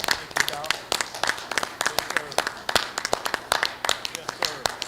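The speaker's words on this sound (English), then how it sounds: "Can we just give him a round of applause?" Hands clap in a round of applause at a county school board work session, a fairly close, brisk patter of several people clapping for about five seconds, with no one speaking over it.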